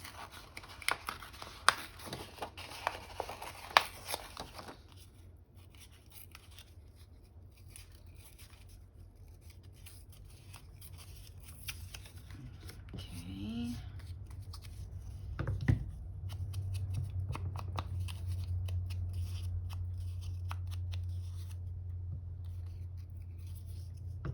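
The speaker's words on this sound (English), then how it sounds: "so let me rip out one of these" A page torn out of a handmade garden-themed junk journal: a few close, crisp paper rips and rustles at the start, then quieter handling over a low steady hum.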